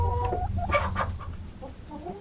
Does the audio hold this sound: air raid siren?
no